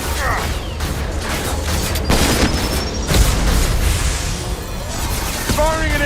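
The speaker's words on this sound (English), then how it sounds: "Firing an impact shot!" Impact shot gunfire in the video game Mass Effect 2, heavy booming blasts and rumbling impacts layered over continuous battle noise, with mechanical whirs and a rising electronic tone amid the chaos.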